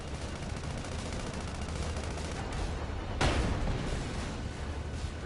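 Sustained video game gunfire from Sand Land, a continuous dense rattle of shots with a sharp louder burst near the end, with no speech.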